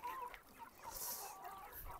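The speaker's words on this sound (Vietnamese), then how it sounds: "nhà anh ấy nuôi lắm gà thế nhỉ?" Many chickens kept at a Dao mountain-village house on Mẫu Sơn, Lạng Sơn, cluck and chatter continuously nearby, a dense overlapping flock sound with no voices over it.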